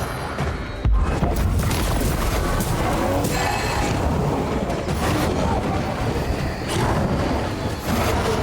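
Dense, loud stretch of booming blasts and gunshot-like cracks from combat in the video game Banishers: Ghosts of New Eden, layered over continuous game music and effects.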